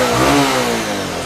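A used 220cc motorcycle engine revs up loudly close by, a rising harmonic whine that peaks and then settles back slightly, heard alone without talk.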